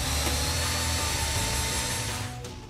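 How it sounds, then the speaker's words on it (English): A power tool cuts a shifter hole through a car floor, giving a steady, loud, harsh whine that holds nearly throughout and fades slightly at the end. "Then cut the proper size hole."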